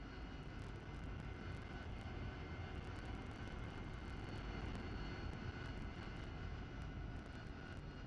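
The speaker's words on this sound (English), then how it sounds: "Everybody hover. It's a hover party. I'm coming up." A Harrier jet's engine holds a steady hover in a flight video game, a continuous dense roar with a whining tonal edge, even and unbroken throughout with no talk.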